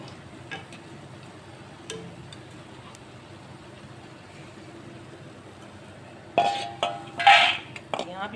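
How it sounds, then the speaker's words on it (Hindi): Batch of freshly fried besan boondi lifted out of hot oil with a metal slotted spoon, producing a burst of clinks and scrapes against the pan after a quiet stretch of faint background hiss. "तो अब ये वाला बैच में निकाल लेती हूँ, ये फ्राई हो चुकी है।"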